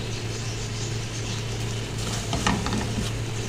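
Chicken frying in about a teaspoon of oil in a pan, a steady close sizzle with a few brief stirring scrapes toward the end and no talking.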